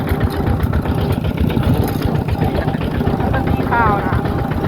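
A Toyota Vigo pickup truck's engine drones and throbs steadily from inside while driving toward town, a loud low rumble with voices talking over it.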